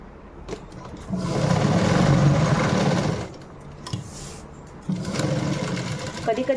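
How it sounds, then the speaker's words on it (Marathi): A sewing machine stitches the side seams of a blouse sleeve in two bursts with a short pause between, its close, even whir mixed with a person talking. "ही जी बाकीची स्लीव्ज आहे त्याला आपण काय करतील, शिलाई मारून घेतील साईडून."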